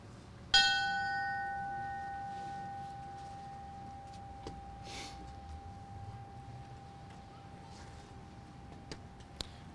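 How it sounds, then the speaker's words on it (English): A memorial bell is struck once at the 2021 Fallen Firefighter Memorial Ceremony in Edmonton, Alberta, a clear ringing tone that slowly fades over several seconds against quiet outdoor ambience with a few faint clicks. "Ringing the bell and accepting the memorial flag will be his widow"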